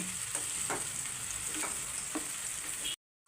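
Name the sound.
tomato masala sautéing in pan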